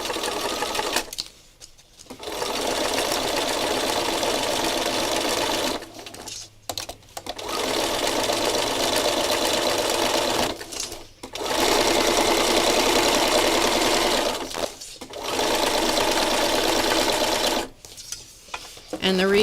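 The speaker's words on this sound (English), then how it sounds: "I'm going one way and then stitching back the other way" A sewing machine stitches rows across fabric in long steady runs, close and loud, pausing briefly between passes as the direction is reversed.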